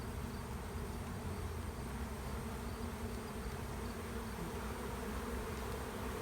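Steady, dense buzzing of many bees arriving on a farm, continuous and fairly close, with no voices.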